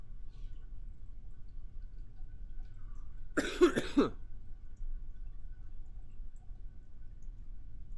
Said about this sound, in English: Still apologize for the cough.